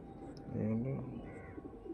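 A pet pigeon gives a short, low cooing burst close by, soft and throaty, with a voice briefly audible nearby.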